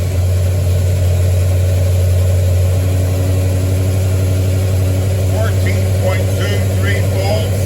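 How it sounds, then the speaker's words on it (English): Car engine started and left idling during an alternator output test, a loud steady low hum running throughout with a few faint clicks near the end. "I'll have Linda start the engine, fire it up."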